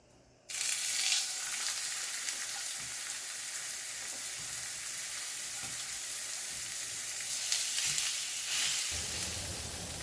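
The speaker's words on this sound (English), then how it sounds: "We got a little bit of some grapeseed oil in there, and we're gonna carefully put our fish in there." Fish frying in grapeseed oil in a very hot pan, a steady loud crackling sizzle that begins abruptly after a brief quiet moment and holds throughout, with a few brighter spitting bursts.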